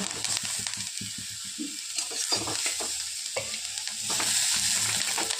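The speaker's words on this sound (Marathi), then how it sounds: "या अगोदर थोडंसं भाजून घेणार आहोत बघा असं भाजून झालं" Ingredients roasting in a pan for a capsicum and ground-masala tiffin dish, with steady sizzling and repeated scraping stirs close by, continuous throughout with no talking.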